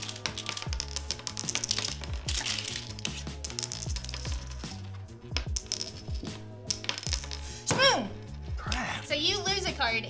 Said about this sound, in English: Last player to toss both checkers on table, star side up.